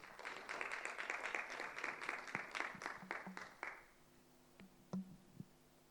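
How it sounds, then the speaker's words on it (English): Audience applause at a legal association election debate in Kenya, a brief burst of quiet, fairly distant clapping that fades out after about four seconds, leaving a few scattered claps in near silence. "we can give her a round of applause"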